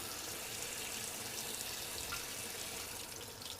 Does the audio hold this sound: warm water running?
yes